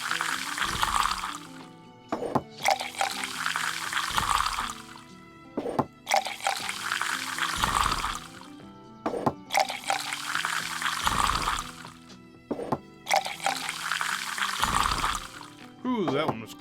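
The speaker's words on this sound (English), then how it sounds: "And I gotta pour a bunch of drinks." Drinks are poured repeatedly in the video game Tavern Manager, with rhythmic bursts of liquid splashing into vessels roughly every two seconds, moderately loud and interrupted by short clicks and game sounds.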